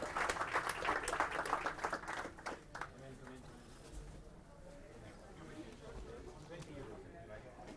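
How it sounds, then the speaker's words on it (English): Audience applause at a developer-room talk on the Internet of Things, a dense burst of clapping for the first couple of seconds that fades out by about three seconds, leaving room murmur. "A round of applause,"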